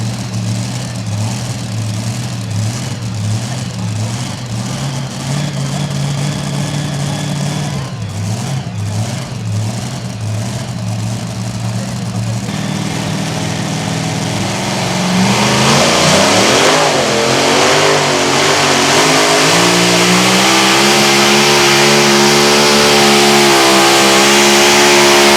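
A Chevrolet S10 super modified pulling truck at a truck and tractor pull idles with a loud, throbbing engine, then revs hard and climbs into a sustained, roaring high-rpm howl.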